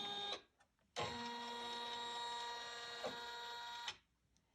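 A Janome 500e embroidery machine traces a design outline on its hoop, giving out two steady, whirring motor runs with a brief gap between them, close and fairly quiet.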